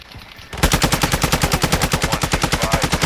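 Rapid automatic gunfire in a video game, a loud sustained burst of evenly spaced shots that starts abruptly after a short quiet moment and keeps rattling steadily to the end.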